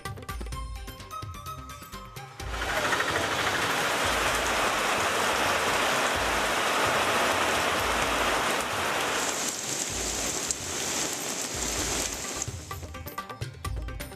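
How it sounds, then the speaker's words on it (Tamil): Heavy southwest monsoon rain pours down in Kerala, a dense steady roar of rain on surfaces that starts after a quieter opening and holds loud throughout, with no voices. "கேரள மாநிலத்தில் தீவிரமடையும் தென்மேற்கு பருவமழை."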